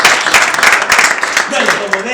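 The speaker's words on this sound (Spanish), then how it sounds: "Un aplauso para todos" Loud applause from a conference audience during a talk on energy saving, dense clapping from many hands in a short burst with voices mixed in.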